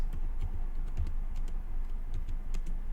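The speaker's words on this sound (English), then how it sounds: "So you press Ctrl Shift Enter at the same time." Someone presses keys on a computer keyboard in an irregular rhythm of soft clicks and taps, close to the microphone over a low background hum, with no voices.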